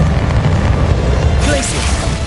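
Bombarda spell blasting in the Hogwarts Legacy video game, a dense, loud booming burst of low rumble with crackling debris, sustained over a couple of seconds amid battle noise.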